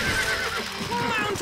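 Horse whinnies in a medieval strategy game, a loud sustained neigh layered over ongoing game sounds and a voice talking.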